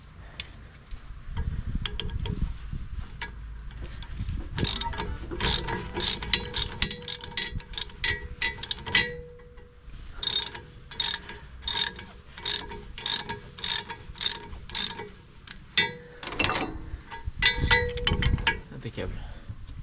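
Ratchet wrench clicking in rapid bursts of sharp metallic ratcheting, close and loud, with pauses between strokes during chainsaw maintenance after felling ash trees.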